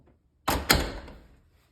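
A door with a door closer swings shut: a sudden thump followed quickly by a second, sharper latching knock, then a brief fading rattle in an otherwise quiet space.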